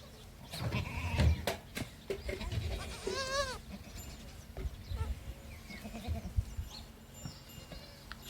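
A herd of goats bleats outdoors near a flowering plant, several wavering calls rising clearly around the middle amid rustling and handling noise, with scattered fainter cries over steady outdoor background.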